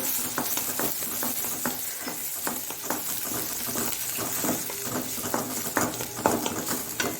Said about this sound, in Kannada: ಕಾಯಿ ಮೆಣಸು, ಶುಂಠಿ ಹಾಗೂ ಆನಿಯನ್ ಹಾಕ್ಕೊಂಡು ಅದನ್ನು ಚೆನ್ನಾಗಿ ಫ್ರೈ ಮಾಡ್ಕೊಳ್ಳೋಣ.